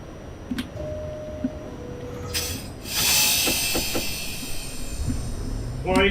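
An R68A subway train on the W line runs in the OpenBVE train simulator, with a steady rolling rumble, a brief tone, a loud hiss burst near the middle and clicking rail noises, heard close and continuous.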